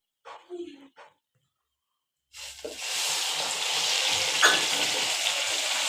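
A ginger-garlic, tomato and onion paste hits a hot kadai with a loud, steady sizzle that holds to the end, after a brief voice speaks over quiet.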